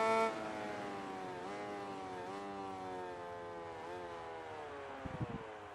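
Motorcycle engine in MotoGP 19, a steady whining tone that climbs and drops with repeated gear shifts, held at a fairly quiet level, with a brief clatter near the end.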